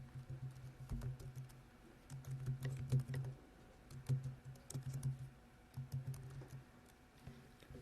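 Quiet, close typing on a computer keyboard while formatting a research paper: irregular bursts of rapid key clicks separated by short pauses, with no talking.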